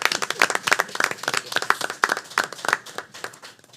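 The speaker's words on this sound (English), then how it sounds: "Let's give them a round of applause." A round of applause at a school board meeting, many hands clapping in a dense, steady patter from a modest room audience, continuous and fairly close throughout with no talk over it.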